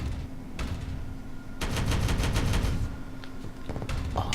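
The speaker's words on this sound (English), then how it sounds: "heavy bolter sounds nice" Heavy bolter fire in the game Regicide comes as rapid, loud bursts of automatic shots, with a short burst, then a longer sustained volley, then another burst near the end.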